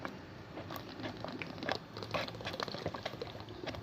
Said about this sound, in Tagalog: kumukulo-kulo na siya